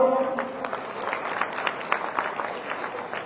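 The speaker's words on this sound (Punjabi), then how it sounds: "ਜੇ ਸਹੀ ਹੈ ਤਾਂ ਤਾੜੀ ਮਾਰੋ" Rally crowd in Jalandhar breaking into applause, a burst of many hands clapping that fades gradually over a few seconds.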